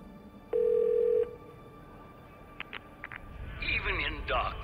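Telephone in a dark first-person game: a steady electronic dial tone sounds for under a second, followed by a few short tone beeps, then a voice begins over a low background hum.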